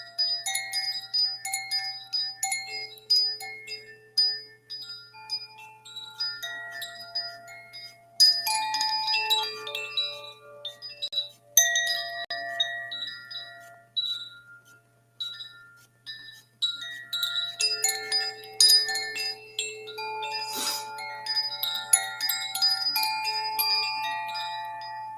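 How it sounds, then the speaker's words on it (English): Chimes ringing in a slow, scattered cascade of bright, overlapping metallic tones that sustain and decay, heard alone over a faint steady hum. "Let the chimes sing to you."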